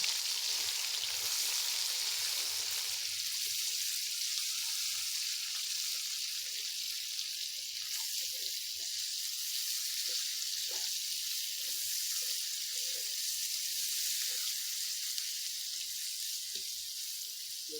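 Onions frying in hot oil with whole spices, a steady, bright hiss of sizzling close up that carries on throughout, with occasional light pops and stirring sounds and no speech.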